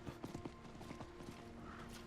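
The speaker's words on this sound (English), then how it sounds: "And then we're going down the steps on a horse." Horse hooves clatter down stone steps in the action RPG Diablo 4, a quick run of crisp, close clip-clops followed by a few softer, quieter steps.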